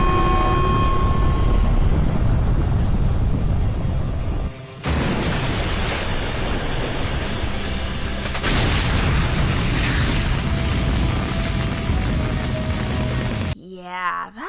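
A missile launch in the anime Highschool of the Dead comes as a loud, sustained rushing roar with booming low rumble, shifting in intensity and cutting off abruptly near the end.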